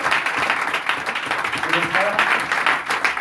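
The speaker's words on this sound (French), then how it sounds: "Amen, on acclame." A church congregation claps and cheers in a lively burst of applause, loud and sustained, with a preacher's voice speaking over it.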